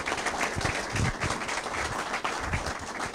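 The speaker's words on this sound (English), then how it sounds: "Can we have a round of applause for both our state attorney and chief?" Town hall audience applause for a state attorney and police chief, a fairly faint, uneven patter of clapping hands in a room, with no voices over it.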